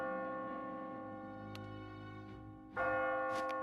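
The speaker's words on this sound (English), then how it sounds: "As you near the top, you will hear a bell ringing." A bell rings near the top of a tower in the puzzle video game Catherine, sustained tolling tones held steadily with a brighter ring striking near the end, over layered game music.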